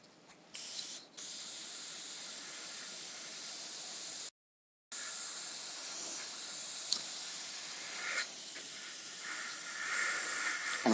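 An airbrush sprays white paint for highlights on a Monster Energy logo, producing a close, steady hiss broken by a few short pauses and one clear gap midway.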